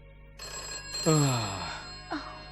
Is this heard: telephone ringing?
yes